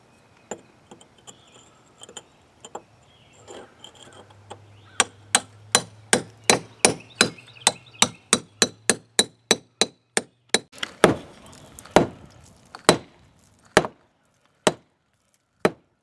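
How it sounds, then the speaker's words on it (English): A chisel hammered against a brick to split it in half, opening a path for electrical conduit: a long run of sharp, ringing strikes, sparse at first, then quick and steady in the middle, slowing to a few final loud blows. "Lamar's on the outside chiseling to try to break one of the bricks in half"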